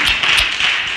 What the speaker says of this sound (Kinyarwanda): On peut lui donner encore les acclamations.